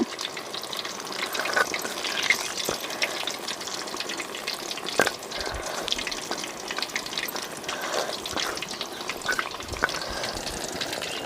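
Masala-coated quail kebab pieces shallow-frying in oil in a pan, giving a constant close crackling sizzle with occasional sharp pops and clicks, no voices.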